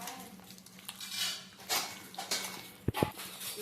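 Hands squish and knead chicken marinade mixed with cracked egg in a bowl, giving soft wet churning sounds with a few clinks against the dish and two sharp knocks near the end.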